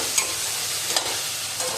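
Hot tadka tempering is poured into baingan bharta (roasted eggplant mash), giving a close, loud, continuous sizzle with a few light spoon clinks and no voices.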